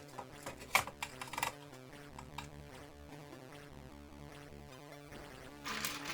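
Plastic Commodore 64 keycaps snap onto their plungers during reassembly, giving a few sharp close clicks in the first seconds over a steady background hum, with a faint rustle near the end.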